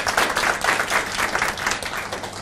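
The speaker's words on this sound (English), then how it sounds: "But a round of applause, please." An audience claps for a panel at a refugee political participation event in Kampala, a steady, moderately loud patter of many hands throughout.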